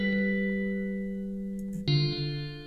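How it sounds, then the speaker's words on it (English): A sustained synthesized tone holds and slowly fades, then a new note strikes with a lingering wash of reverb trailing behind it. "So that's quite a nice amount of reverb."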